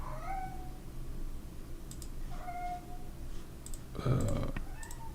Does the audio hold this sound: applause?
no